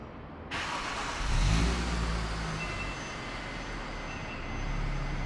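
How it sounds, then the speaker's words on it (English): A Subaru WRX engine idles and revs on a warm start with a deep, rumbling exhaust note, swelling louder briefly then settling into a steady throaty drone. "Listen to that exhaust."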